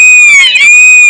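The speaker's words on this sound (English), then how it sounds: "look at the screeching. The hideous screeching" A creature in the Spore video game gives one sustained, high, piercing screech that stays loud throughout, with no talking.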